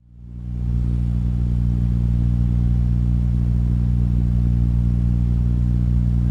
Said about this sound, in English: rotor that could be powered by a rotary tool with a mandrel attachment